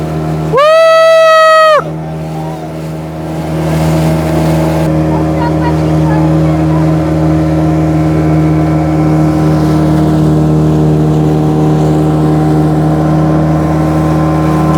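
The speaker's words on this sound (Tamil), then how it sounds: "இங்கே பாருங்க மற்றொரு போட் வருது பாருங்க." Racing boats speed past during a boat race, a steady engine drone filling the scene after a brief loud whistle-like tone at the start, with crowd noise and voices running underneath.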